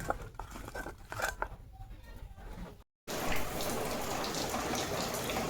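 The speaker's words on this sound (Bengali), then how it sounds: "বৃষ্টি পড়ছে সাড়ে দশটা থেকে" Rain falling in a village, a steady patter and hiss that turns louder and denser after a brief gap, with faint speech-like sounds in the quieter opening.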